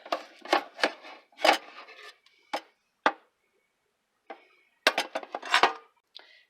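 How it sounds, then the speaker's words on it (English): Garlic and a hot pepper crushed in a garlic press, a string of sharp clicks, squeaks and squeezing knocks in short bursts with quiet gaps between, close and fairly loud. "I think I'll do it in the garlic press."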